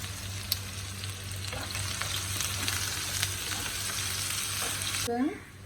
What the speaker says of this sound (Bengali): সাদা তেল নিয়েছি পরিমাণ মতো, তার মধ্যে আমি দিয়ে দিলাম বন্ধুরা পেঁয়াজটা